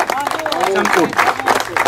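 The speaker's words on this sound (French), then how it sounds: "Donc on peut l'applaudir parce qu'il a fait l'individuel tout seul comme un grand." An audience applauds a child who finished an individual event at a festival. The clapping is steady and mid-distance, with someone talking loudly over it the whole time.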